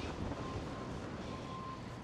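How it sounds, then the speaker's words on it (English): Steady wind rumbling and buffeting against the microphone while bike riding, a constant broadband roar with no voices. "It's quite windy."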